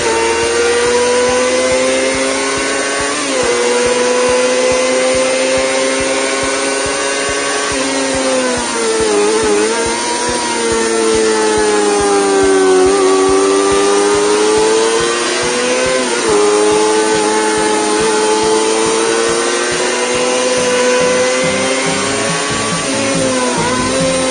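A four-cylinder Kawasaki ZX-25R 250cc motorcycle engine revs loudly and continuously, its high-pitched whine rising and falling through repeated throttle blips, close and steady throughout with no voices.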